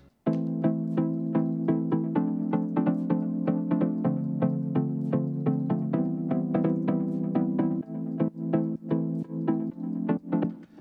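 Plucky synth melody played without sidechain pumping, a steady stream of short bright notes over a sustained low tone, close and continuous with no voices, thinning near the end.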